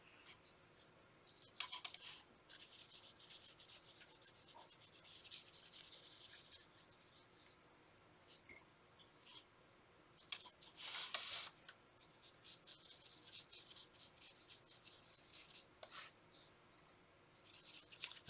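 Crayon rubbed back and forth over paper laid on a textured coral shape for a fish tank craft, a soft scratchy hiss in steady strokes with short pauses, close and fairly quiet, no talking.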